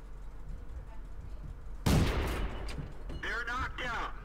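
In World of Tanks, a Renault FT AC tank destroyer fires a single loud, booming cannon shot that rings out and decays into a rumbling tail, followed by a voice talking in the game.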